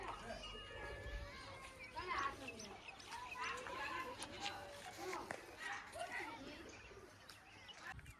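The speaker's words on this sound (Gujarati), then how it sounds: "આપણે 6 આપણા કબૂતર ઉડાડી નાખ્યા છે" A breeder's flock of pigeons flies out from the loft. Soft cooing and clucking sounds come and go among other bird calls, with people talking quietly in the background.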